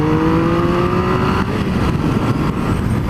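A 2016 Triumph Speed Triple motorcycle accelerates, its engine note climbing steadily, loud and close, then easing off and settling into a rougher rumble as it pulls away.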